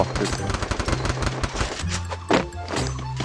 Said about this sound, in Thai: ยืนงงในดงกระสุนเลย ไม่รู้ว่ากระสุนทีมไหน